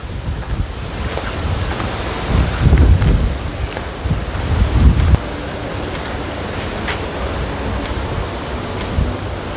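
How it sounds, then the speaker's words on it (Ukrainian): Strong wind roars across the microphone in continuous gusts, with heavier buffeting bursts midway and a rushing, surf-like hiss throughout. "Боже, який вітер. А, Він сильніше і сильніше."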